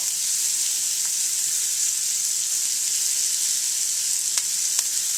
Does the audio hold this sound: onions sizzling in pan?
yes